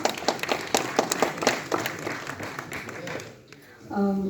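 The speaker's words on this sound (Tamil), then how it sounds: "நல்ல கைத்தட்டல் கொடுத்து அவர் வரவேற்பார்." An audience claps in steady, dense applause to welcome a speaker at a Tamil TV event, fading out near the end before a voice begins.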